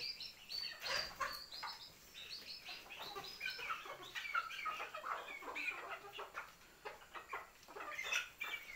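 Several poultry chickens cluck and chatter continuously while eating leftover food, with short bright calls overlapping close by in a busy, steady flock chorus.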